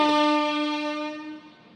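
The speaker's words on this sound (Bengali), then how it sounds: "এদিক দিয়ে আবার একটা ট্রেন ঢুকে দিল" On an adjacent track, an entering Duronto Express train sounds a loud, sustained horn blast that fades over about two seconds.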